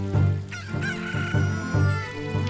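Angry chickens in The Legend of Zelda: Ocarina of Time 3D squawk and crow in about five loud, close bursts that overlap in quick succession.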